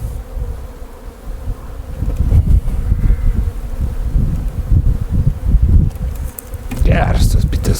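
Honey bees buzz steadily around an open hive as a beekeeper prepares the nest for brood rearing, a close, continuous drone with a brief voice near the end.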